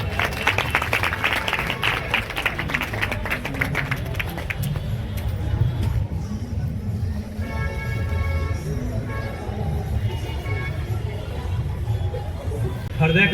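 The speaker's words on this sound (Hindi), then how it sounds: "एक बार जोरदार ताली।" Audience applause at a public function, a steady wash of clapping from a gathered crowd with some murmur mixed in, holding fairly even throughout.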